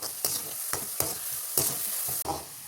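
Garlic frying in sesame oil over a low flame for Kerala-style fish pickle, a steady close sizzle broken by a few scraping stirs of the spoon against the pan, no voices.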